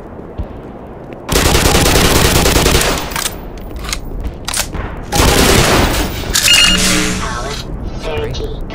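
Automatic gunfire rings out in the Black Mesa video game, two long loud bursts of rapid shots separated by quieter gaps filled with other game noise.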